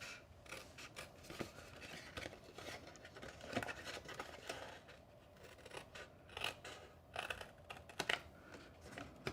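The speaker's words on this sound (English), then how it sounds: "I'm just going to cut right up the middle of that score line." Scissors snipping through a folded paper treat box along its score lines, close and quiet, a steady run of small crisp cuts and rustles.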